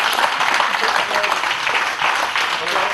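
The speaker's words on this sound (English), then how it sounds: "A round of applause for your race winner and first in modified" Steady applause from a crowd at a Lotus Cup Europe race podium at Zandvoort, continuous and fairly loud for three seconds, with a voice faintly present underneath.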